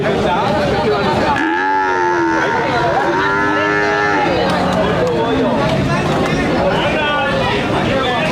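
Murrah buffalo calves moo repeatedly, long drawn-out bellows from several animals overlapping, with a steady murmur of people talking in the background throughout.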